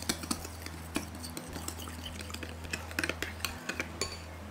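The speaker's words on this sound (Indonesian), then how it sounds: "Ini kita aduk rata" A utensil clinks and scrapes against a bowl in quick, uneven strokes, stirring egg yolks with vanilla essence, with a low steady hum underneath.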